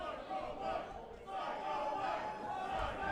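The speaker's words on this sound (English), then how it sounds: "the crowd unanimously chanting for a body slam" A pro wrestling crowd roars and chants in unison for a body slam, a dense, steady wall of many voices filling the arena without a break.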